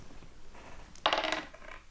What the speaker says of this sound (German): Ich würfel noch einmal.